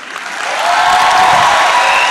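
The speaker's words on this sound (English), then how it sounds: "They're clapping for you." An audience breaks into applause, rising from a light patter into a full, steady roar of many hands clapping that fills the space, with no voices over it.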